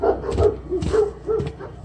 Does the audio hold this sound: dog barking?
yes